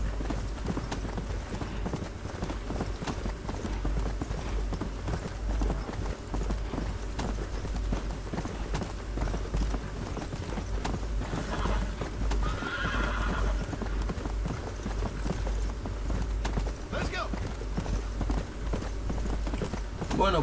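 A horse gallops steadily in the video game Red Dead Redemption, with continuous rhythmic hoofbeats, occasional neighs and snorting, and someone talking over the sound throughout.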